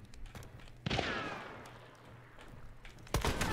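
A single gunshot rings out in the video game Hunt Showdown, a sharp blast with a long ringing tail, followed a couple of seconds later by a second burst of noise.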